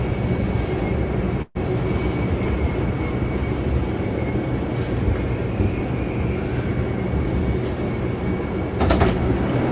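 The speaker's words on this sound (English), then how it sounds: "This is a Brooklyn-bound 4 train." Brooklyn-bound 4 train on the New York subway, a loud steady rumble and roar of the moving car with rattling and wheel hum throughout, broken by a brief dropout near the start.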